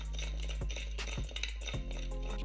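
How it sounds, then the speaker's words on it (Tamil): Fenugreek seeds roasting in a pan, stirred with a metal spoon that knocks and clinks against the pan a few times over a low background hum, close and without speech. "சட்டியில் 1/2 டேபிள் ஸ்பூன் வெந்தயம் போட்டு வறுத்து எடுத்துக்கோங்க"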